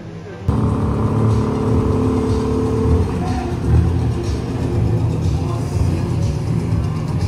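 A Chevrolet Caravan cuts in loudly and accelerates hard, holding a steady, close, throaty engine roar for several seconds.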